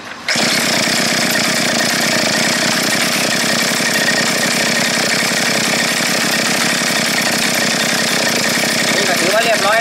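A repaired motorcycle engine runs loud and close after starting up, holding a dense, rapid mechanical chatter with steady revving and a harsh, rattling texture that carries on without break.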